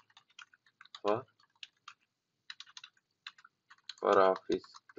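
Keys clatter on a computer keyboard in short, light bursts of clicks while text is typed in, with brief voice-like sounds cutting in between the runs.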